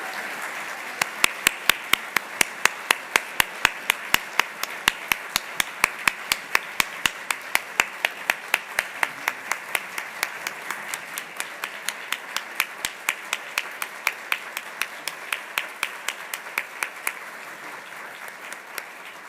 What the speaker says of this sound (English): Let's have one more round of applause for all three of our outstanding awardees